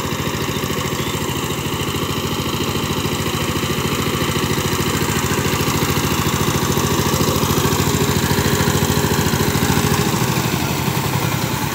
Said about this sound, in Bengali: সাইপিং 16 HP ডিজেল ইঞ্জিন 18 ব্লেডের গাড়ি, সাউন্ড খুবই ভালো